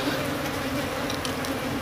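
Apis cerana honey bees swarm with a dense, continuous buzzing hum during a honey harvest, close and loud throughout, with a few brief higher flickers over the drone.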